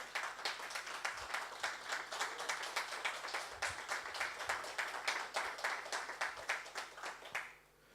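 A church congregation at a sermon claps in a rhythmic, steady beat together, moderately loud, continuing for several seconds before stopping abruptly, with no speech over it.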